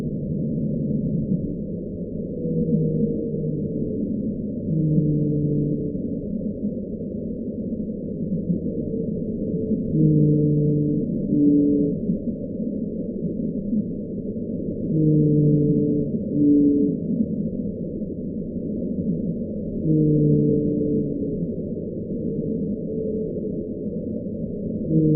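Blue whale calls sped up tenfold: long, deep moaning tones repeating in slow phrases every few seconds, steady and alone over a low hiss, all energy confined to the low range.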